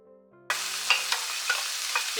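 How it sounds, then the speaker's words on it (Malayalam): Peanuts with cumin and fennel seeds roast in a hot pan, a bright dry sizzle bursting in after a brief low hum, broken by light rhythmic scraping strokes of a stirring spoon. "ചൂടിൽ നിലക്കടല ഏതാണ്ട് ആയിട്ടുണ്ട്. ജീരകവും അതുപോലെ പെരുംജീരകവും ഒന്ന് ചൂടായിട്ട് വരണം."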